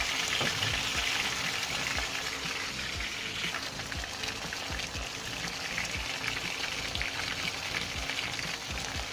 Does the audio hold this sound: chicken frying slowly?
yes